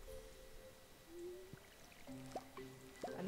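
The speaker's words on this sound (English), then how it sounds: "Time to water some crazy corn." Soft watering-can pours in the farming game Stardew Valley as crops are watered, a few faint splashy trickles with small plinking tones, quiet and alone.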